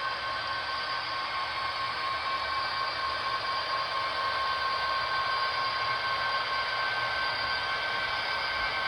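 A model train rolls by on a layout with a steady, unbroken rumble and a high mechanical whine that holds evenly throughout.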